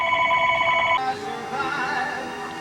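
A telephone rings in a workshop during assembly of a cowl for a Novanta RJ90 car; one loud electronic ring sounds for about a second, followed by a quieter, lingering tone with no talk.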